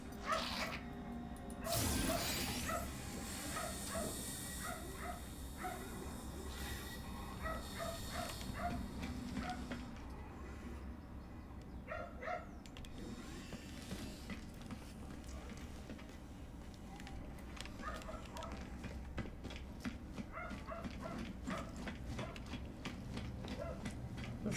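Dogs being walked past a house bark and yip outdoors through open windows, moderately distant, scattered barks over a steady background hum with some talk.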